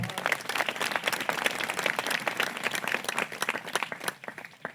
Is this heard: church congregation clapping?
yes